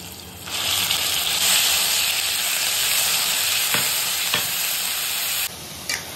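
Chopped onions sizzle and fry loudly in a hot pan while making pav ragda, a steady bright hiss with a few soft clinks of stirring.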